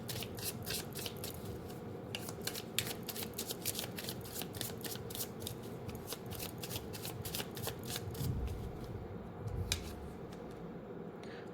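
A tarot card deck is shuffled steadily by hand, with rapid rhythmic riffling and flicking of cards close by, continuing throughout over a low background hum.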